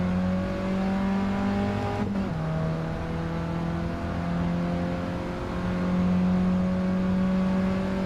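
A race car in Gran Turismo 7 drives with its engine droning steadily at a high pitch, then drops sharply in pitch as it brakes into a turn before holding a steady hum. The sound is loud and continuous, with no voices.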